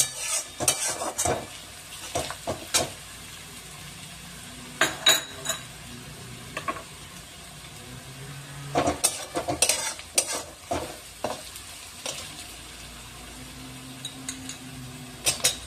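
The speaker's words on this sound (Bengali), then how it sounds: "রসুনটা দিয়ে আমি একটু নাড়াচাড়া করব" Garlic frying in a pan is stirred with a utensil, giving repeated scraping and clinking strokes in irregular bursts over a soft continuous sizzle, close and fairly quiet.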